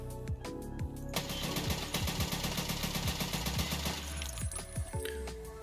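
Rapid bursts of SR-25 rifle fire with a 16-inch barrel in Escape from Tarkov, dense overlapping shots running nearly continuously for several seconds, loud and close with sharp transients and a ringing tail.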